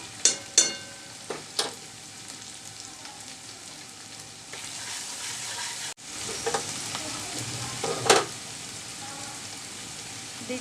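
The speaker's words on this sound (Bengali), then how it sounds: "কষিয়ে নিচ্ছি কাঁচা গন্ধটা চলে যাওয়া পর্যন্ত" Onion, ginger and garlic sauté in a pan for a bitter gourd kofta, with a low sizzle broken by sharp spatula knocks and stirring scrapes, rising to a fuller hiss later.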